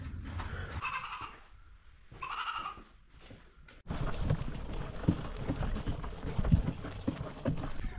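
A newborn buckling goat kid on a muddy farm bleats twice in short, close calls with pauses between them, followed by louder, busier farmyard noise.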